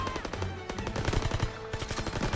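Rapid machine gun fire in the World War II shooter game Call of Duty WWII, loud bursts of closely spaced shots with brief pauses, close and punchy with no talk over it.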